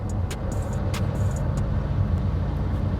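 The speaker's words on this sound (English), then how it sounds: "Sounds like a racing car." A loud Porsche Carrera GT engine drones steadily from inside the moving car, with a raw mechanical rasp and occasional sharp clicks and rattles.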